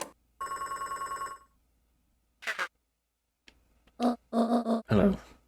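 Telephone ringing in the video game Beacon Pines: a rapid trilling bell rings for about a second, followed after a pause by short chirpy game sound effects and a burst of squawky character vocal blips.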